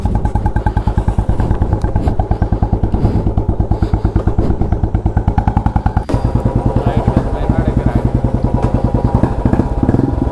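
Royal Enfield Classic 350 with an Indori three-pipe silencer thumping loudly close by, a fast, even exhaust beat that revs up and settles, with a voice talking faintly underneath.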